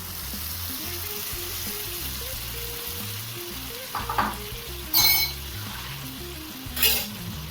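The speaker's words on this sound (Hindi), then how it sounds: "तो चलिए जो बॉईल किया हुआ राजमा है वो डाल देते हैं।" Boiled kidney beans go into sizzling fried masala in a pan, a steady loud frying hiss broken by a few sharp clattering bursts as they are added and stirred.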